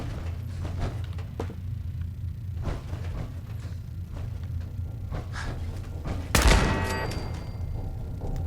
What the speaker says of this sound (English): Oh, I hear another turret.